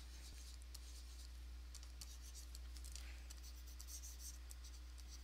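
Soft scratching strokes of a pencil drawing on paper, faint and intermittent over a steady low electrical hum, with quick short marks clustering near the end.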